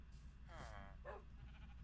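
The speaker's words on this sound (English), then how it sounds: "That's a sheep." Sheep in the Minecraft video game bleating twice in short, wavering calls, faint beneath a low background hum, with a person talking nearby.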